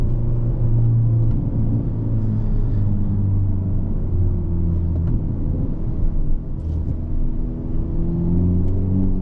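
A 2022 Hyundai Elantra N with a manual gearbox drives along a road, its engine a steady, close rumble with a slight rise in pitch partway through and no talk over it.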